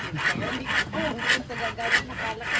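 A hand saw rasps back and forth through bamboo in a steady rhythm of about five strokes, close and fairly loud, with no talking.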